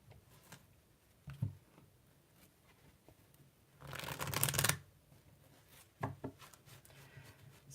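Lenormand cards riffled and shuffled by hand, with soft taps and one longer, louder burst of rapid riffling in the middle, close by.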